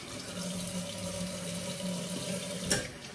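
Tap water runs steadily into a sink for rinsing after a shave, a continuous soft splashing hiss at low level with no break.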